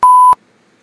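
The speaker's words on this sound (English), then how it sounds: "Oh my god, stop beeping me out." A single loud censor bleep, a steady pure tone lasting about a third of a second, from an Old Spice commercial, cutting off abruptly and followed by near silence.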